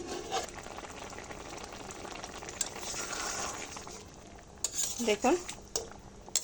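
Ridge gourd cooks in a pan as the lid comes off and a spoon stirs it, giving a steady low sizzle with sharper clatters of metal near the end and a brief spoken word.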